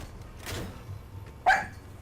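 A small female dog gives a single sharp bark close by, briefly rising out of a quiet indoor room with a low background hum.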